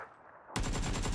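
Automatic gunfire in PUBG Battlegrounds on Xbox Series X, a sudden loud burst of rapid, evenly spaced shots starting after a short quiet moment and running to the end.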